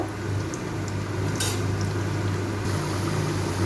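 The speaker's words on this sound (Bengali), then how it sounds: "আমি এর মধ্যে আলুগুলোকে ভেজে নেব।" Potato pieces fry in hot oil for a chicken curry, giving a steady, close sizzle with a low hum underneath and a short louder hiss partway through.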